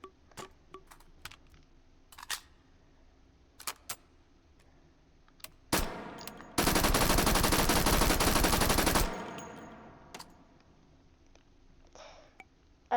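Submachine gun fire in the VR shooter game H3VR: a single sharp shot, then a sustained loud automatic burst of about three seconds, with scattered soft clicks and handling taps before and after.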